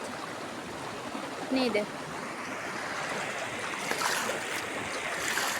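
Water of the Kirindi Oya, fed from the Lunugamvehera reservoir, flows with a steady broadband rush throughout, while a voice briefly speaks over it.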